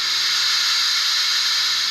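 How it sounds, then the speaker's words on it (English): Steam let-off hiss from a Bachmann Spectrum 2-8-0 Santa Fe model steam locomotive sound system, a steady, loud, continuous broadband hiss lasting the whole moment with no talk. "that's the steam let-off switch"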